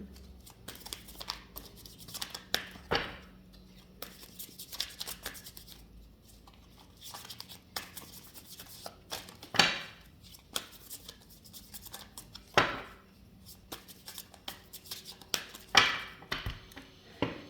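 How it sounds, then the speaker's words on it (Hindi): Tarot cards riffle and slap in repeated shuffles at close range, quiet papery flutters broken by sharper snapping bursts, with no talking. "मेरे को शफलिंग थोड़ी ज़्यादा करनी पड़ रही है"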